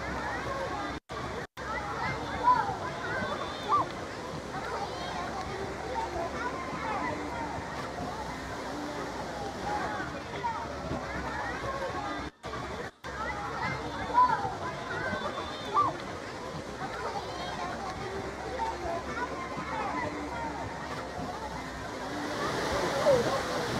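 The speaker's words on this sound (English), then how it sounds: "They have another waterfall at the pool as well." At a hotel pool at Hilton Hawaiian Village on Oahu, a waterfall pours steadily in the background, a continuous rushing wash under scattered voices, children's chatter and general crowd noise.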